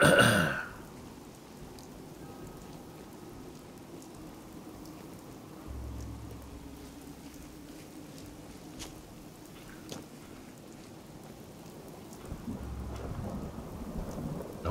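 Steady rain with low rumbling thunder in the State of Decay video game, a soft continuous downpour broken by a couple of deep rolling rumbles, with a sharp burst at the start.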